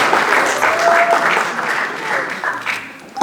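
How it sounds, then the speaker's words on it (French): Applause at a church-style celebration for a mother's 50th birthday, steady dense clapping filling the whole moment with crowd noise and some voices mixed underneath. "On acclame, on acclame, on acclame, on acclame pour la gloire"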